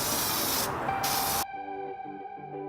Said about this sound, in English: So now I'm just going to go over here in a few even light mist coats.